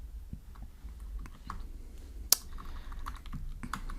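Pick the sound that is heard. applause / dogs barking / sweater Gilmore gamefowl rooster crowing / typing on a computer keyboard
typing on a computer keyboard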